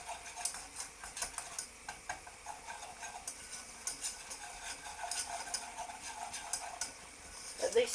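Flour cooking in a pan as the base of a macaroni cheese sauce makes a faint, steady sizzle under continuous stirring, with a rapid ticking of the spoon scraping the pan throughout.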